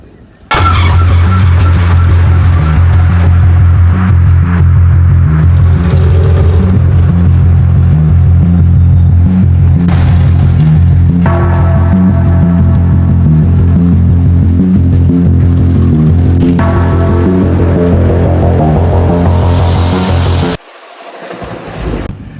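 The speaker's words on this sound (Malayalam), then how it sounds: "അവസാനം നമ്മുടെ മനോക്കോരോ വിട്ടിട്ട് നമ്മുടെ ബസ് പോവുകയാണ്" Bus pulling away on a hitchhiking journey in Mali, its engine a loud, steady low rumble with rattling and road noise heard from inside, before the sound cuts out abruptly near the end.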